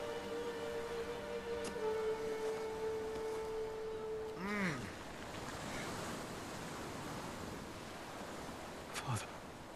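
Ocean waves in the video game Ghost of Tsushima, a broad steady wash of surf and wind, with brief musical tones and a sweeping effect layered over the continuous noise.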